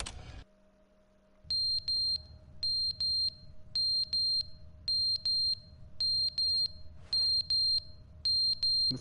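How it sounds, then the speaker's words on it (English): A fire alarm in The Stanley Parable: Ultra Deluxe sounds loud, repeating paired high beeps in a steady rhythm over a constant low hum, with a brief noisy burst partway through. "The fire alarm going off?"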